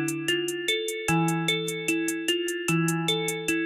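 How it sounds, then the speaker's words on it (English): A programmed hi-hat pattern with randomized velocities: a quick run of bright ticks whose loudness varies from hit to hit, riding over looping synth chords and bass in a simple beat, with no talking. "If you give the velocity random values, the hi-hat patterns will sound more groovy."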